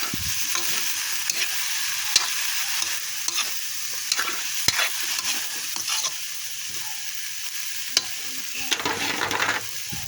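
Vegetables for lumpia filling are stirred and tossed in a hot pan, with a steady sizzle and frying hiss running throughout and repeated scraping clatter of the utensil against the pan.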